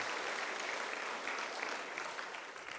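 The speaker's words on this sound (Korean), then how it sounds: "우리 두 분 장로님 잘 다녀오시도록 박수 한번 해주시면 좋겠습니다." A church congregation claps together for two departing elders, a dense, even burst of applause filling the room without speech over it.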